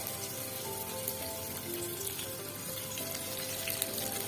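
Sliced onions fry in hot oil in a pan for a tomato koi fish curry, giving a constant, even crackling sizzle, close and fairly quiet throughout, with no talking.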